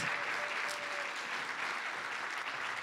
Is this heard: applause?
yes